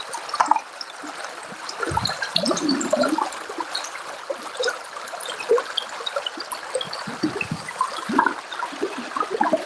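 Creek water flowing and splashing during gold prospecting, a close, continuous burbling trickle with irregular splatters throughout.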